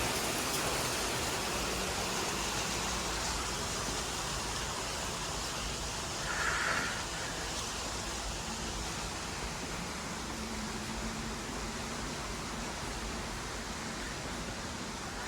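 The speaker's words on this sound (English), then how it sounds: "It's like it's raining underground." Steady broadband hiss of water falling like rain inside an old tunnel at the Niagara Parks Power Station, continuous and even throughout with a faint brief sound midway.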